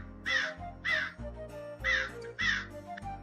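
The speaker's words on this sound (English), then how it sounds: "a crow was thirsty and wandering around in search of water" A crow caws four times in a steady rhythm, loud and close, with brief pauses between calls and a low background hum.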